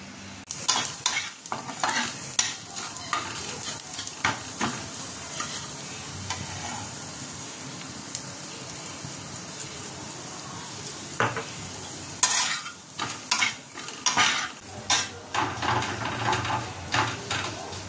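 Malabar spinach (pui shak) chorchori being stir-fried in a pan, a steady loud sizzle with repeated rhythmic spatula scrapes and stirring that quicken toward the end, no talk.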